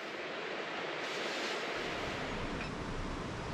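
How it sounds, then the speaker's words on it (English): Steady rain hisses on a tent roof in a dense wash of noise, with a rushing stream blended underneath, constant and even throughout. "I'll enjoy the sound of the rain on the roof, the stream behind me"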